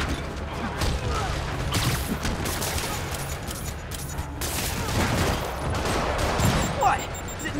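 Rocket launches and explosive blasts from combat in the video game Marvel's Spider-Man Remastered, a dense, continuous barrage of bangs and booms layered with game music and effects, with some voices mixed in.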